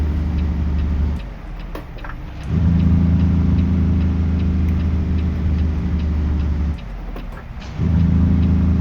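Heavy truck engine brake in American Truck Simulator: a steady, loud, low rumbling drone that drops out briefly around the second mark and again near the seventh, then resumes each time.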